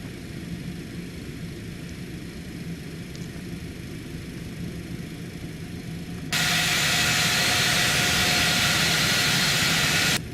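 Business charter jet on the taxi to runway 24, a steady engine roar that surges partway through into a much louder, bright hissing whine with a sustained tone, continuous and close.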